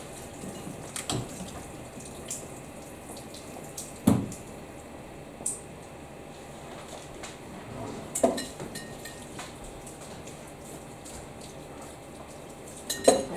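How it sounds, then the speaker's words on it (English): A kitchen knife is washed under hot running tap water in a school kitchen, giving a steady hiss of flowing water with occasional sharp clinks and knocks of metal and dishes. "I'm going to wash my knife quickly"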